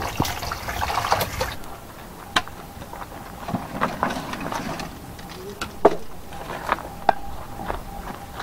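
Banana blossom rinsed under running water, a faint steady trickle broken by soft splashes and small clinks, fairly quiet and close.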